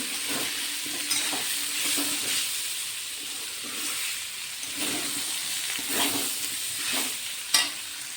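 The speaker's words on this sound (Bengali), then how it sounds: "আবারও কিছু সময় আমি কষিয়ে নেব" Cauliflower and potato curry sautés in a pan with a steady close sizzle, broken by regular scraping and stirring strokes from a spoon, and no voices.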